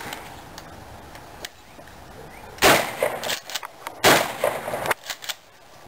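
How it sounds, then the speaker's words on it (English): A Mossberg 12 gauge shotgun fires twice outdoors, loud booming blasts about a second and a half apart, each followed by rumbling echo and clatter. "Alright, here's the Mossberg 12 gauge."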